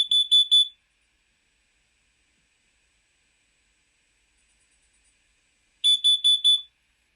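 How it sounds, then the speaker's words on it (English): A smoke alarm gives a loud burst of three rapid electronic beeps, then near silence for about five seconds, followed by a CO alarm sounding a burst of four rapid beeps. "So 3 beeps is a smoke alarm, 4 beeps is a CO alarm"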